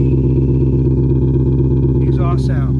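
A BMW i8 fitted with a Maxhaust active exhaust system idles with a deep, loud, steady exhaust rumble, and a voice speaks briefly near the end.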